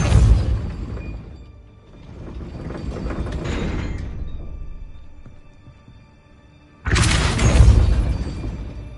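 Hogwarts Legacy spell effect for Depulso: a loud burst with a rumbling whoosh that decays, a softer swell and fade, then another sharp loud blast, all without talking.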